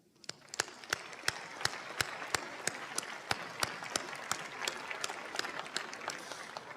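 Applause at a university spring commencement, a fairly quiet and distant wash of clapping with a few close, sharp claps ringing out at a regular beat above it.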